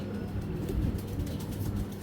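Pigeons in a breeder's loft coo in low, throaty rolls, repeated soft murmurs close by with a steady rhythm.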